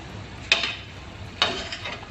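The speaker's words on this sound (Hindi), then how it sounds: "बस ये डाल के मैं अच्छे से मिक्स कर लूँगी इसको" Spoon stirring ground keema with black pepper and crushed red chili in a pan, two distinct scraping strokes under a faint sizzle, close and fairly quiet with no talk.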